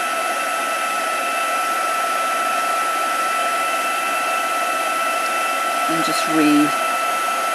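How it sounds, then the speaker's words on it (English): Heat gun re-melting embossing powder on a crafting project, a steady, close blowing hiss with a thin whine throughout, briefly joined by a short spoken phrase near the end. "our heat gun should still be reasonably warm. So just heat that again."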